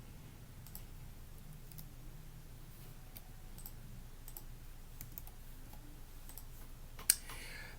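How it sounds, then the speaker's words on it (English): Soft, quiet tapping of keys on a computer keyboard, a few scattered light clicks against a steady low hum, with one sharper click near the end. "I just typed that 3 times"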